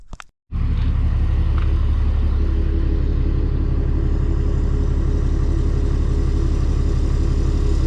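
A racecar engine catches after a brief crank, then settles into a loud, steady, close rumbling idle that runs without pause.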